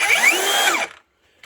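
A 7 1/4 inch rear handle circular saw whines loudly at full speed for under a second, then cuts off and spins down into near silence.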